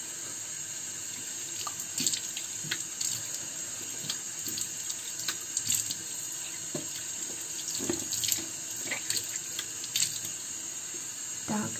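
Tap water runs steadily into a bathroom sink while cleansing oil is rinsed from the face and hands, with intermittent splashes and drips against the constant hiss of the faucet, close by.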